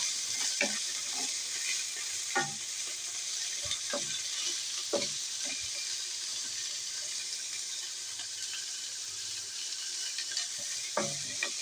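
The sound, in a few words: stir-frying ampalaya (bitter gourd) with pork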